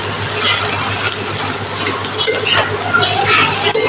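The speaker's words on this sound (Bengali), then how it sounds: "এবার আমি একটু ভালো করে নেড়ে নিচ্ছি।" Fish roe frying in a pan with salt added, stirred with a utensil: steady sizzle under repeated scraping and clinking of metal against the pan, close and fairly loud throughout.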